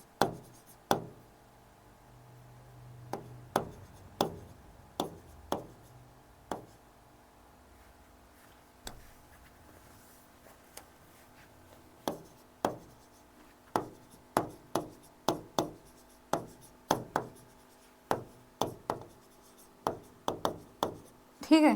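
Marker strokes scratch and tap on a board in a steady run of short, crisp bursts, pausing briefly midway, while a teacher works through a lesson on present tense; faint room tone lies underneath.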